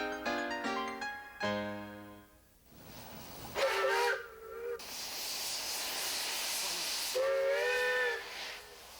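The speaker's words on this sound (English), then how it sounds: "riding the old mining train left over from them thar days" An old steam mining train in Cripple Creek, Colorado sounds its whistle in several chord-like blasts, a short series of toots and then longer calls, over a steady background hiss of steam.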